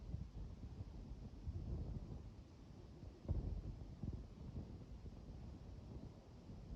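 Wind blows across an open field where a kite with a rattan bow hummer flies, a low steady rushing with gentle gusts, fairly faint and with no voices.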